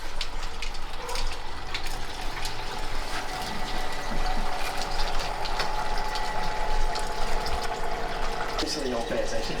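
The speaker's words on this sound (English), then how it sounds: "So we're going to take our cold water, run it through the plate chiller to counteract the hot liquid that's coming out of the boil tank" Cold water pumped through a plate chiller on a three-vessel homebrew system, cooling hot wort from the boil tank: a steady, continuous rushing flow with a faint mechanical hum underneath, running evenly and fairly close throughout.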